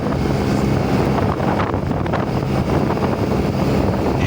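Steady, loud wind roaring and buffeting across the whole clip while riding a Yamaha Jog SA36 scooter, a dense broadband rush with no voices.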